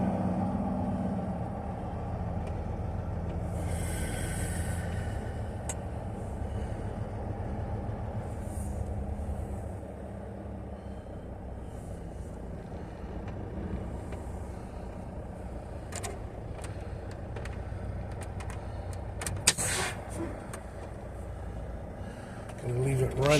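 A truck's engine left idling while parked, a steady low rumble that continues throughout with voices over it.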